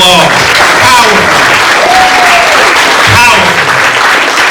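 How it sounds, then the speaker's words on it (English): An audience at a publication event for authors applauds in a loud, dense, sustained burst of clapping, with a few voices and cheers rising through it. "let's give our authors another round of applause"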